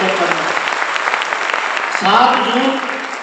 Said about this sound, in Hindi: ताली जोरदार वाली बजा लीजिए सर